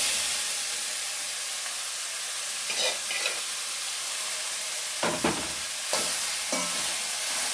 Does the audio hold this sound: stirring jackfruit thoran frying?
yes